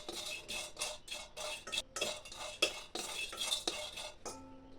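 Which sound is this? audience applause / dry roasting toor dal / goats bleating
dry roasting toor dal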